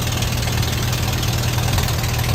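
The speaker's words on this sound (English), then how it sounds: "As you can hear, she does have a little bit of an exhaust leak." An M38A1 jeep engine idling outdoors with an exhaust leak, a steady, loud low rumble with a continuous rough puttering hiss, close by and unchanging throughout.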